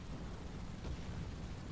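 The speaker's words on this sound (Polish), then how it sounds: "Wybuchy piękne." Dense, continuous rumbling explosions and bursts from tank combat in War Thunder, loud and close with no gaps, heard alone without speech.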